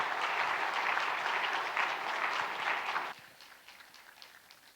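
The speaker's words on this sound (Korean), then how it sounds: "우리 목사님 나오실 때 우리 크게 박수로 우리 모시겠습니다." A church congregation applauds at a revival service, a dense, steady burst of clapping that holds for about three seconds and then drops off sharply to a faint scatter.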